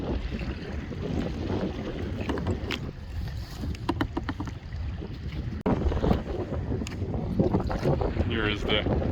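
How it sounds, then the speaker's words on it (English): Kayak paddling across choppy open bay water with white caps near a Virginia Beach peninsula, Mackay Island area, with steady wind buffeting the microphone, water slapping against the hull and occasional paddle splashes, a voice speaking over it. "It's a little choppy, there's some white caps."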